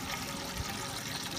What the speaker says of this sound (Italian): entra acqua pulita che viene ovviamente dal rubinetto